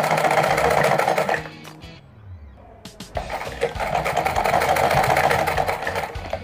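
A sewing machine runs in fast, steady rattling bursts while stitching a lace border onto a lehenga chunri, pausing briefly for about a second before resuming at full speed, close and loud.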